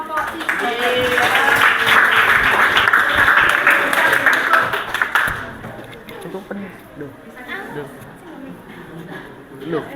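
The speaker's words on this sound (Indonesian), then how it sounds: "Tepuk tangan untuk kelompok 3." Students in a biology classroom clap for group 3 after their presentation, a dense patter of hands for about five seconds that then drops away, leaving voices talking in the room.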